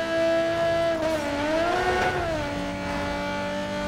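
Race car engine in Need for Speed Underground 2 with a modded car sound pack, a steady high-pitched drone with the pitch sweeping up and back down as the car accelerates and shifts, loud and continuous.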